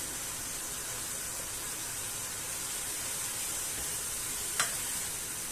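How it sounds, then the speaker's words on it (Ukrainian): Onion and carrot stew-sauté in a pan with a soft, steady sizzle and hiss, fairly quiet, broken once by a brief clink near the end. "цибулька з морквою потушилася, додаємо зелень"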